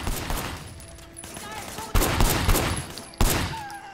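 Bursts of gunfire in Sleeping Dogs: Definitive Edition, sharp broadband volleys striking at intervals over a busy game soundscape, with loud onsets near two and three seconds standing out clearly.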